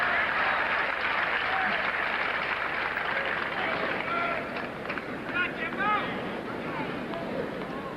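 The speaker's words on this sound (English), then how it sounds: "Lendl waiting for the crowd to settle down." A tennis crowd at the 1983 US Open final applauds and cheers in a sustained, dense wash of clapping that eases slightly toward the end, with some faint voices mixed in.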